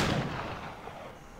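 Gunfire in the pirate-era game Assassin's Creed Black Flag, a loud broadband blast at the start with a rumbling tail that fades over a second and a half, with no talk.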